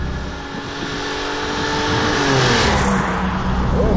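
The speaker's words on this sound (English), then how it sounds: "if the car's running properly, and I just got an engine rebuild, you can really run up the revs" Car engine running under load while driving, its tone rising and growing steadily louder over a few seconds as revs climb, with broadband road and wind noise; engine freshly rebuilt, car leaning slightly in turns.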